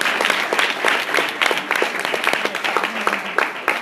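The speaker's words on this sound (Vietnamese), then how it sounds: "Hãy cho họ một tràng pháo tay nào." Audience applause for performers on stage, a close, lively burst of many hands clapping with distinct sharp claps standing out over a crowd wash.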